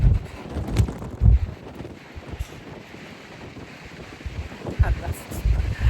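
Gusty wind buffets the microphone in low rumbling bursts, strongest near the start and end, with steady broadband rush between gusts.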